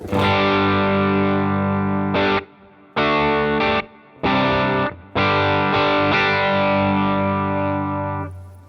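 A distorted electric guitar through a Big Joe overdrive pedal with all knobs at 12 o'clock plays sustained, crunchy chords in bursts separated by brief silences, thick and saturated with a slight shimmer.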